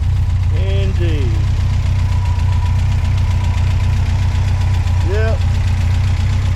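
A small car's engine idles steadily close by, a constant low rumble with a faint tone above it, while brief squeaky chirps break in twice.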